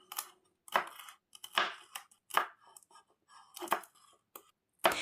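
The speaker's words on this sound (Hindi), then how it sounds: "इसके बाद शिमला मिर्च को भी हमें क्यूब शेप में या डायमंड शेप में कट करनी है।" A knife cuts onion and capsicum into cubes on a board for chilli paneer, giving a string of irregular crisp chops close by with short pauses between strokes and no voices.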